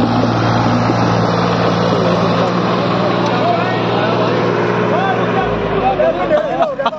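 New Holland 3630 tractor engine straining in a tug-of-war against a Solis 4515, a loud continuous labouring drone under an excited crowd and shouting voices.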